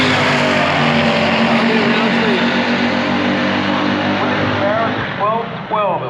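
Pure stock small-block drag race cars, including a Yenko Deuce, roar loudly at full throttle down the strip, a sustained harsh engine blare easing near the end as an announcer talks over it.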